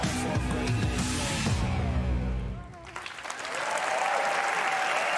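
An audience at the Ubisoft E3 2019 presentation breaks into loud, sustained applause and cheering, fading briefly before swelling again, while someone talks over the crowd in the foreground.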